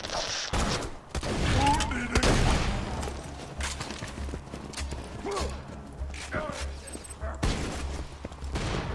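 Shotgun blasts and chaotic combat in the video game Borderlands 2, loud repeated bursts over a busy mix of game effects and music, with a voice talking at moments.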